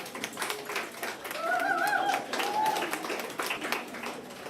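Scattered audience applause at a book awards ceremony, a steady patter of hands with faint tonal sounds drifting through the middle of it.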